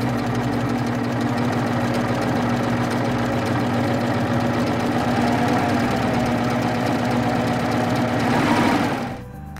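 A Baby Lock 8-thread serger fitted with a snap-on lace applicator foot stitches lace in a fast, steady mechanical whir and clatter close by, running continuously before stopping abruptly at the end.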